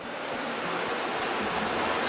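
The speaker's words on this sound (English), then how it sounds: "all you have to do is like listen to the waves" Ocean waves break on a quiet shore by a spa in Central America, a steady wash of surf with some wind, continuous and fairly close.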